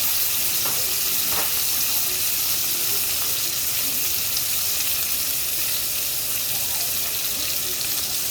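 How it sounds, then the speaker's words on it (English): A crab-stuffed ribeye steak hits a hot pan and sizzles loudly and steadily up close, with a dense crackling hiss and a few brief clinks near the start. "A little stuffed ribeye with crab meat going in"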